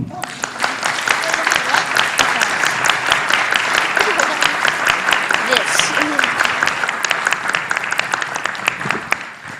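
Applause for school coaches at a board meeting, a full room clapping steadily and loudly for several seconds with a few voices mixed in.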